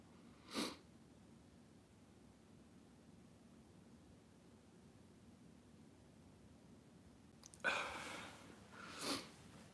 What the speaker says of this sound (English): hay fever is kicking my ass. I'm sorry for all the sniffles.